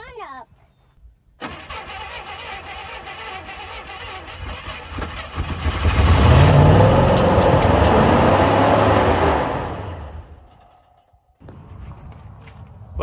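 A car engine cranks and starts, then runs steadily and swells into a louder rev in the middle before dropping off, with a voice speaking briefly over the running engine.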